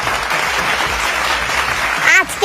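Applause at a married-versus-unmarried cricket match, a dense wash of clapping with a voice talking over it near the end.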